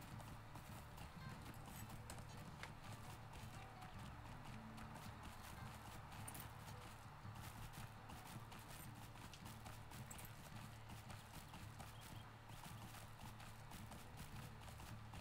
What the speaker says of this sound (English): as our horses take us to where we're going